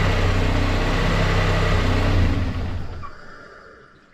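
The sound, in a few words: GT35 turbo turbine spinning down after engine shut off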